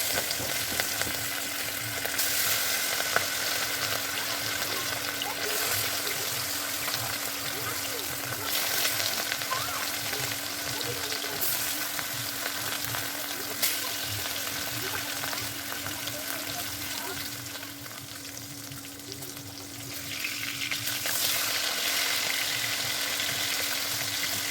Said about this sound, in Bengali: মানে ওদিকে মাছ ভাজা তো হচ্ছে